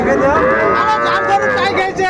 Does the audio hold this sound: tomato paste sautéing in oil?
no